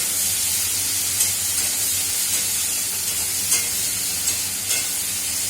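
Mixed vegetables fry in a hot pan with a continuous bright sizzle, broken by occasional soft stirring scrapes at a close, even level and no talking.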